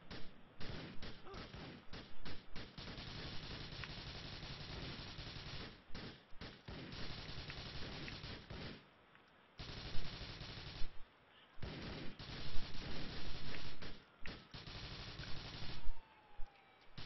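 Rapid bursts of gunfire in GTA IV, automatic fire in dense volleys broken by short pauses, loud and continuous across the stretch, with no talking over it.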